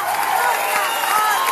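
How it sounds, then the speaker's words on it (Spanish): Loud, steady audience applause and cheering for Andrea at a disco-era show, a continuous dense wash of clapping and crowd noise with scattered voices. "fuerte el aplauso para Andrea"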